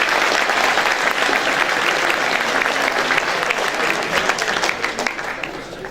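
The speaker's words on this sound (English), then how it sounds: "A round of applause for the spouses and the better halves of the musicians of the marching band." Dense, sustained applause from a gala crowd honoring the spouses of marching band musicians, loud and even throughout with many hands clapping together.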